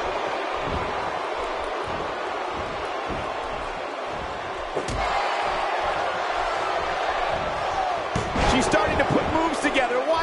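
A big, loud arena crowd at a Houston basketball game in NBA 2K17 roars steadily throughout, swelling near the end amid occasional sharp thuds and squeaks, with a commentator's voice running over it.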